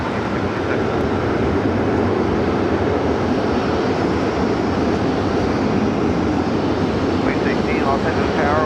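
A Delta A350 jet airliner at Los Angeles airport, its engines a loud, steady broadband roar filling the whole span, with faint radio voices near the end.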